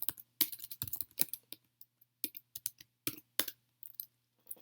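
Quick bursts of clicking keystrokes on a computer keyboard while C++ code is entered, close and fairly quiet, with short pauses between clusters of taps.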